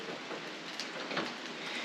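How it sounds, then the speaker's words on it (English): Rain falls outside a forest trail shelter in the Appalachian wilderness, a soft, even hiss of drops with occasional louder patters, fairly quiet and without talk. "It's nice to kind of get out of the rain"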